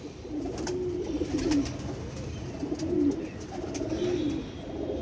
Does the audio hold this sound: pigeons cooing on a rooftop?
yes